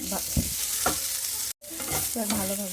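A spatula stirs a fish mixture in a sizzling pan while making fish cutlets, producing a constant frying hiss punctuated by several scraping strokes and one brief dropout, close and unvoiced.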